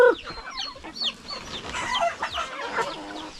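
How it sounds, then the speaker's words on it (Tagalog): Backyard chickens at a rural farm hut cluck and squawk up close in a busy, overlapping flurry of short calls, with no talking. "Yung mga manok natin, oh."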